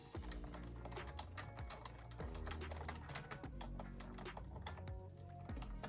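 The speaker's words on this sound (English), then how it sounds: "I'm just going to type out congratulations, Serena." Quick, uneven clicking of fingers typing on a computer keyboard, close and fairly quiet, with no voice.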